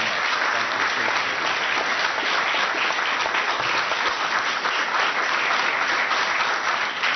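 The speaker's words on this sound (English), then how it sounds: "How about a round of applause for our guest speaker today?" Sustained audience applause for a guest speaker at the National Press Club, a thick, even wash of many hands clapping at once, heard alone and continuous throughout.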